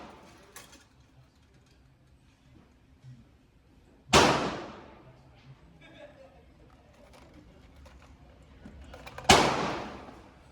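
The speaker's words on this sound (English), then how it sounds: "I was shooting at around 10 yards" Two sharp, loud gunshots from a Canik mc9L pistol fired at a rifle target about 10 yards away, spaced roughly five seconds apart, each with a brief ringing decay over quiet outdoor background.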